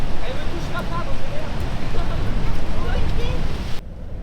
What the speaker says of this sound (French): Biarritz, il y a des vagues